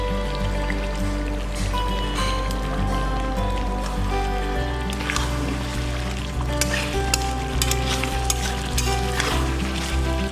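Cauliflower and green chillies fry in a pan for a Bengali-style roast, a loud, continuous sizzle with bursts of crackle and the occasional stir, close up and without talk.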